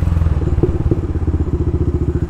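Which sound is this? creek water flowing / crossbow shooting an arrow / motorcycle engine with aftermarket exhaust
motorcycle engine with aftermarket exhaust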